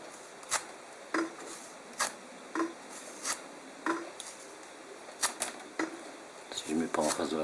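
A knife blade slicing through leather in a series of short, crisp cuts at a steady pace, close up, with faint background hiss.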